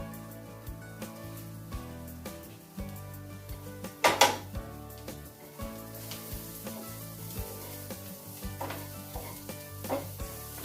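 Garlic sautéing in a pan for a cheddar cheese potato soup, with a steady close sizzle, occasional stirring scrapes and a few sharper utensil clinks against the pan.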